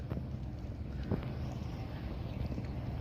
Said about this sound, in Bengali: দেখেন কত বড় জাহাজ এটা